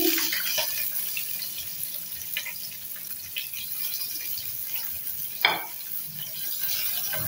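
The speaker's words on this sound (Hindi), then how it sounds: "गाजर को हम हल्के से फ्राई कर लेंगे।" Carrots lightly frying in a pan for vegetable chicken chow mein give a steady, soft sizzle, with a brief louder stir or scrape midway and no talking.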